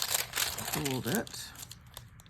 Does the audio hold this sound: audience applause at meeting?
no